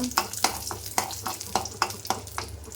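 Mustard seeds, cumin and green chillies crackling in hot oil for a tempering, with a rhythmic series of sharp stirring scrapes of a spoon against the pan over a continuous close sizzle.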